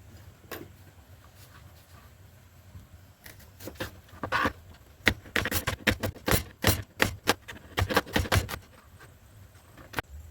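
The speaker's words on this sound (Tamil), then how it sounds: "நாங்கள் உரித்து எடுத்து வச்சுருக்கிற வெங்காயத்தை சின்ன சின்னனா கட் பண்ணி எடுக்க போகிறோம்" A knife chops peeled onions into small pieces on a board, starting with a few scattered cuts, then a quicker run of sharp, close taps that grows denser and louder.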